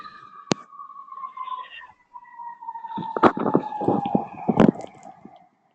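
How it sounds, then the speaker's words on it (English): An ambulance siren wails in a steady sweeping tone that runs through most of the passage, fairly prominent, with sharp clicks and bursts of noise over it and no talk. "Jesse, it's possible that you've got an ambulance in the background"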